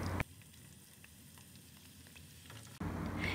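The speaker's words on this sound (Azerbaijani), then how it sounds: "Ardınca yarım halqa doğradığımız soğanı ərinmiş kərə yağında qovururuq." Half-ring sliced onion fries in melted butter with a loud crackling sizzle that drops away to a quiet hiss for a few seconds, then returns at full strength.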